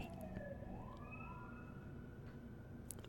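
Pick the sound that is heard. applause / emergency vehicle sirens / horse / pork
emergency vehicle sirens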